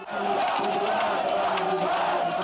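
A crowd of mock protesters chants and yells as they try to storm a police station in a training drill. The mass of loud voices stays close and dense, a continuous roar of shouting.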